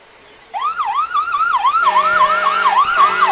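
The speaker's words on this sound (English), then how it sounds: "there's nothing like a parade with the engines going, with the sirens and the engines going by" Fire engine sirens wail in a Christmas parade, a rising and falling yelp that starts abruptly and then thickens as a second siren joins, loud and near with no voices.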